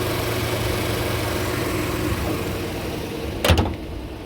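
The hood of a Chevy Avalanche truck slams shut once near the end, a single sharp thud over a steady, low engine idle.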